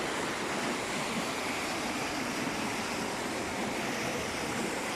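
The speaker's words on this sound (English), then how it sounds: "now it's lapping the sides there now underneath this small drop" River water rushes and laps against a bank below a small drop, a loud, steady wash of noise that continues without a break, with no voices.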